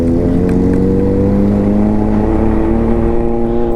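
Motorcycles pass close by at the Sunflower EcoPark in Tayug, Pangasinan, a steady loud engine drone with layered revving tones that holds for the whole stretch, with no talk over it.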